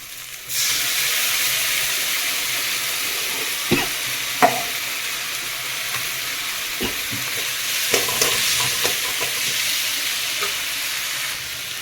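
A paste of ginger, garlic and green chili frying in a pan with already fried onion and tomato for a rohu fish curry: a steady, loud sizzle throughout, punctuated by occasional clinks and scrapes of stirring.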